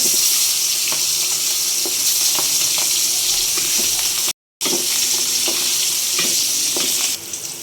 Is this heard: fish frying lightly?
yes